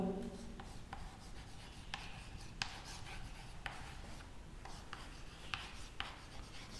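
During a physics lecture, chalk or a marker scratches and rubs across a board in a quiet, steady stream with a few sharper taps between strokes.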